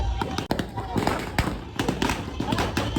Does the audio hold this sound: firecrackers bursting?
yes